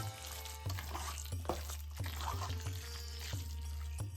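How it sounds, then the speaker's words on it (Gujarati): Hot spice tempering with cumin hits a poha and semolina batter, giving a close broadband sizzle with sharp crackles and pops over about four seconds, and no voices. "પછી આમાં થોડોક વઘાર કરશું"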